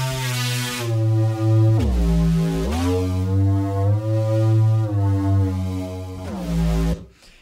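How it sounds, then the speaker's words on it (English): An airy drum and bass Reese synth bass made in Reason plays alone, a thick detuned low tone that slides and swoops between notes with a liquid, moving character, loud and sustained for several seconds before cutting off. "It's like a Reese bass kind of thing."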